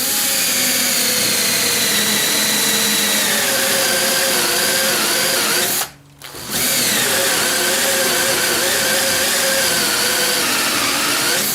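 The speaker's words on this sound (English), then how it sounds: "we just have to do some drilling" A power drill whirs steadily into a wooden board with a dull bit, cutting out for a brief moment midway before starting up again and running on loudly.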